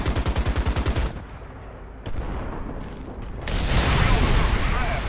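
Tank coaxial machine gun firing in War Thunder, a fast close burst of shots at the start that cuts off, followed by engine rumble and a rising roar of battle noise.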